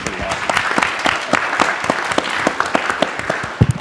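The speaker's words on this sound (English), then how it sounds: "I want to give Dexter a round of applause" Audience applause at a panel discussion on Chinese investment in the US, with loose, uneven claps and distinct sharp hand strikes standing out over a softer crowd wash.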